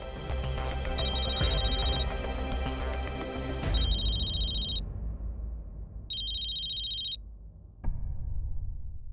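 A telephone rings in bursts of a repeated incoming call, its bright electronic tone sounding in two separate stretches over music and room sound, with pauses between the rings.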